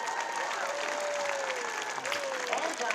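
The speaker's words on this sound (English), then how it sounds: "Everybody give me a round of applause." Audience applause at a police K-9 competition, a steady wash of clapping from a crowd that holds at moderate level for the whole stretch, with a faint whistle-like tone drifting through it.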